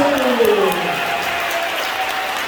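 Applause from an audience at a pastor's press conference in Korea, a loud, continuous patter of clapping for a couple of seconds, with a voice faintly heard over it.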